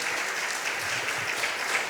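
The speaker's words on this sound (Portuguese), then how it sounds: "Vamos aplaudir ao Senhor Jesus." A church congregation claps together in a brief, dense burst of applause that stays steady and fairly loud throughout, with no speech.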